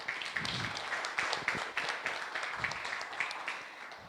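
Applause for a panel speaker in a formal hall, steady clapping from an audience continuing evenly throughout at a moderate level.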